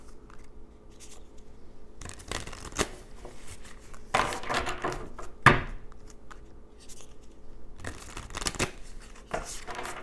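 Moonology oracle cards being shuffled by hand, close riffling and rustling in repeated bursts with soft taps and slides between, fairly quiet indoors.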